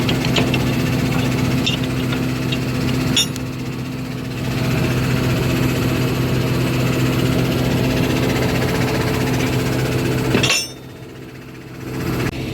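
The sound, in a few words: tractor engine running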